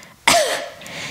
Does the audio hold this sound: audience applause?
no